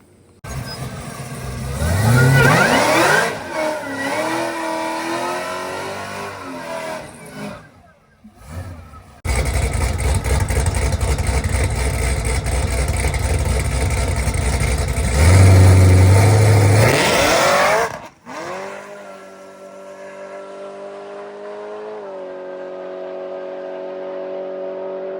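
A built BMW M240 launches and accelerates hard down a drag strip, its engine rising loudly through the gears in two long pulls, then settling to a steady idle-like drone near the end.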